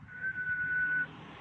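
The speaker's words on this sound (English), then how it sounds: "it's just give it a whistle" A single steady whistle into a radio microphone with low gain and compression, one clear sustained note held for about a second, close and fairly quiet.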